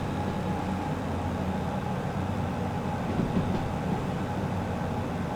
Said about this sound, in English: Throttle back a little, let the engine rest.